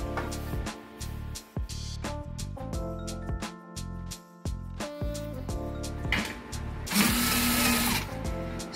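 A power drill drives screws into an MDF dresser in short, repeated bursts of whirring and ratcheting, close and loud, with brief pauses between runs.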